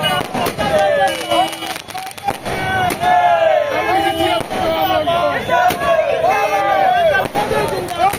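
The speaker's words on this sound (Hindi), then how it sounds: "यहाँ लोहिया चौक पर देख सकते हैं आतिशबाजी किया जा रहा है" Fireworks crack and pop repeatedly at a street celebration at Lohiya Chowk in Darbhanga, under a loud, close crowd that chants and shouts slogans throughout.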